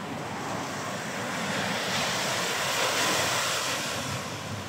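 Sea waves roll in near a coal plant in Davao, a broad continuous surf roar with wind rumbling into the microphone and a gentle swell in loudness, nobody speaking.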